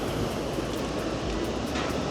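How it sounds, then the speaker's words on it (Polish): Churning water at a large waterfall roars as a steady, dense rush that fills the whole moment without a break. "Kotłuje się woda."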